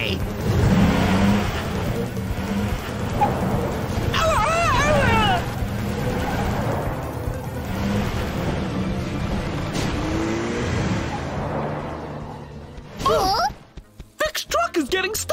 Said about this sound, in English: Vic's truck is getting stuck in Herbert's holes!